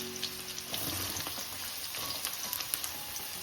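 Finely chopped onion fries with garlic and green chilli in hot oil, making a close, steady crackling sizzle with brief spatters and light stirring, and no talking.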